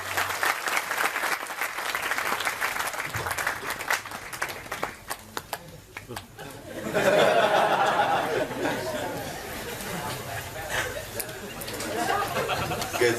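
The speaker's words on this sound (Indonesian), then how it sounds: "tepuk tangan untuk beliau" Crowd at an open religious gathering led by a preacher applauds, clapping swelling midway into a broad roar with chatter and some laughter mixed in, while someone talks around it.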